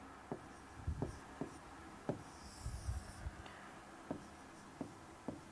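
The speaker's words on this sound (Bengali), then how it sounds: "আমরা একবার লিখে ফেলি।" Pen or marker writing out a list in a classroom lesson, with a steady run of short scratchy strokes and taps, fairly close and moderately quiet, with no talk over it.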